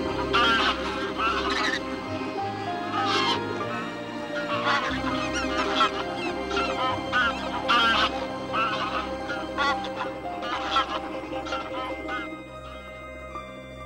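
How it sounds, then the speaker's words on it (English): Migrating geese flying south over the Caspian region call in a loud, overlapping chorus of honks, with repeated bursts rising and falling across a constant flock clamour, no talk. "the birds put their fresh pinions to the test and fly south to escape the"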